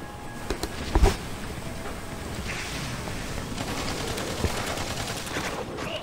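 Gunfire in the video game Battleborn crackles in short bursts over a constant wash of game noise and music, with a brief louder volley near the start.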